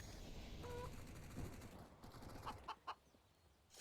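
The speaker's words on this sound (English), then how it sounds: "going to be chilling with the chicken" A chicken clucks faintly in the Counter-Strike Inferno map during an esports match, with a few short clucks low in the mix beneath game noise.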